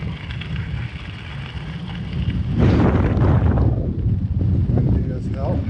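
Strong wind buffets the microphone while riding a 2019 Trek Roscoe 8 along the Hamburg bike trail near Weldon Spring, Missouri, a loud continuous roar surging in gusts with a fainter rush of flooded river in the background.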